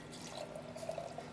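Wine poured into a glass at a café table, a faint, short trickling splash with small liquid gurgles running for about a second in a quiet room.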